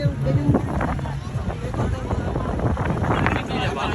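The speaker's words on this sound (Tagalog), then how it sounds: "Malakas ang hangin dito." Strong wind roars and buffets the microphone in continuous gusts at an outdoor kite-flying event in Muzon, Malabon, with faint rustling mixed into the steady blustery noise.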